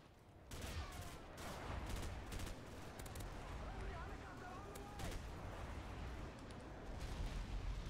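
Airstrike explosions and gunfire in Call of Duty 4 multiplayer, a dense run of booming blasts and crackling shots rolling on continuously for several seconds at moderate loudness.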